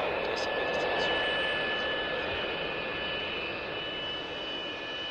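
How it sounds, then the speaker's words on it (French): Steady broadband roar of an Airbus A320 cabin in flight bound for Paris, a constant engine hum and rushing air noise with faint tonal whine, unbroken for the whole stretch. "bienvenue à bord de cet Airbus A320 à destination de Paris"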